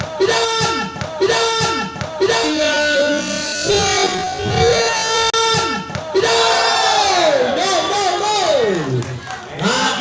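Spectators at a regional volleyball tournament in Aceh cheer and shout loudly and continuously, a packed crowd of yells and chants with a commentator's voice running over the noise throughout.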